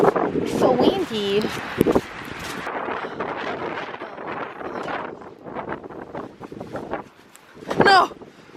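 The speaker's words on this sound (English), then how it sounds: "Oh my goodness, it's so windy." Strong gusty wind in a spring snow and ice storm buffets the microphone with loud roaring rushes that rise and fall throughout, mixed with people talking and exclaiming nearby.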